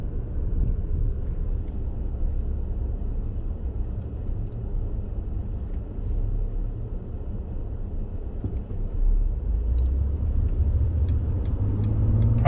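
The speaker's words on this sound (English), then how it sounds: "Traffic situation here on the island riding around" Steady low road rumble of passing traffic on an island, heard while riding along, continuous and fairly loud with a vehicle swelling closer near the end; no talking.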